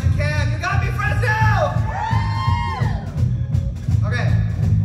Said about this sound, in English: I want you guys to scream that out as loud as you can